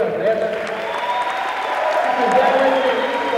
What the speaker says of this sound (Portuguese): eu gostaria de pedir uma salva de palmas para esses dois